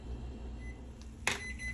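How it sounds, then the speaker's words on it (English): An oven timer gives a short electronic beep in a kitchen while barbecue ribs bake, one brief clear tone rising out of quiet background hum, with a fainter chirp just after. "Okay, guys, that's the timer."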